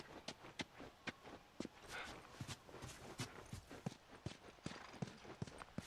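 Horse hooves walking in The Last of Us video game, a steady, even clip-clop of hoofbeats on ground, quiet and unhurried, with no voices over it.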